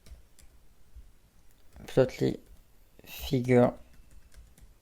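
Soft, faint computer keyboard typing in a quiet room while searching for Plotly Figure Factory, scattered light clicks running beneath two brief bursts of a man's speech.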